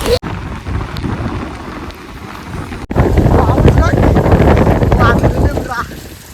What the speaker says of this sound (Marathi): आता पाऊस आलेलाच आहे बघा वारा आलाय पुरा वारा